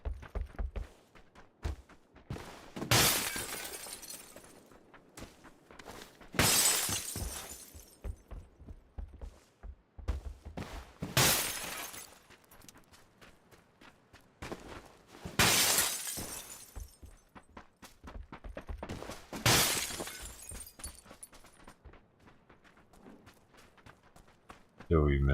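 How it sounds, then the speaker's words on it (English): Glass shattering repeatedly in the video game PUBG, with five or six loud crashing bursts a few seconds apart and footsteps and game noise between them. "the sound of the breaking glass more beautiful, isn't it?"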